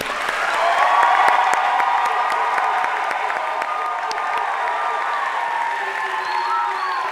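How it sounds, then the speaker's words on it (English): Sustained applause from an audience at a university invention competition event, steady clapping with some crowd cheering, filling the room evenly throughout. "a special round of applause for Colby"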